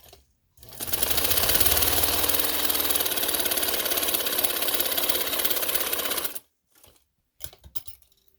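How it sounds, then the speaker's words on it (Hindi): A sewing machine stitches fabric for a wedding and Eid sherwani and garara outfit, running steadily and loudly for about six seconds before it stops, followed by a few brief handling noises. "इसको मैं सिलाई लगा के दिखा देती हूँ आप लोगों को।"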